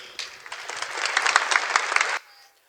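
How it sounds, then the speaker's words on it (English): Audience applauding for a child contestant at a kids' talent show, a dense burst of clapping that builds over about two seconds, holds, then stops abruptly, leaving quiet room noise. "A round of applause for Ami Kebe as she takes a chair."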